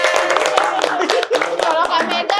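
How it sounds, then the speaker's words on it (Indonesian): An audience applauds, giving a burst of dense, close handclaps with a few sharper claps, mixed with people talking and cheering over the top. "Tepuk tangan."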